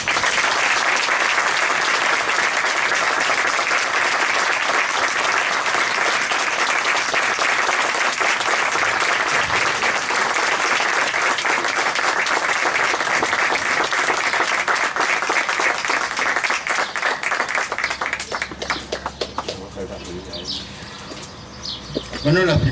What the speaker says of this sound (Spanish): Recibamos con un cariñoso y fuertísimo aplauso a sus padres